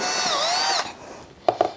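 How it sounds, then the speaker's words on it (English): A power drill runs steadily for about 0.8 seconds, its motor pitch dipping and rising as the bit is rocked back and forth to widen a hole in a camera lamp build, then stops, followed by two short knocks. "you can just sort of rock that drill bit back and forth to kind of widen out that hole a little bit right here"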